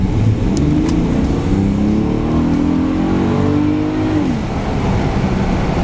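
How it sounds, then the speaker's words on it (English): A 2018 Volkswagen Atlas V6 accelerates hard on a winter night, its engine note climbing steadily in a rising drone heard from inside the cabin with a window down, then easing off near the end. "let's go ahead and mash it."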